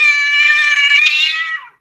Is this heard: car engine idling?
no